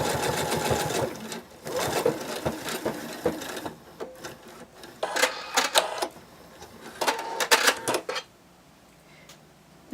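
A sewing machine stitches a plush dragon wing, running in close, rapid mechanical bursts separated by short pauses, with a quiet stretch at the end.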